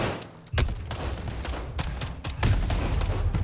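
Gunfire in the Modern Warfare 2019 campaign, a loud burst of shots with booming report over continuous battle noise, one sharp shot cracking out and more blasts following.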